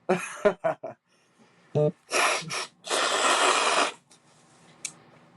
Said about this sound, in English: Had to blow my nose.